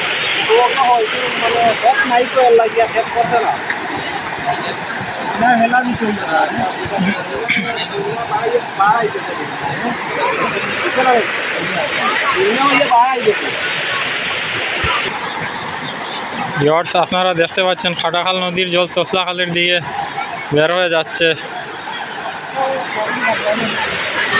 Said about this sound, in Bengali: দেখতে পাচ্ছেন কিভাবে জল বেরোচ্ছে অতি দ্রুত গতিতে